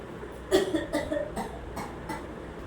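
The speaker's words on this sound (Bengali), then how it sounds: "কাশি দাও, কাশি দাও। গুড।" A child in a speech therapy session gives a few short coughs on request, spaced apart and fairly quiet, with soft low background noise between them.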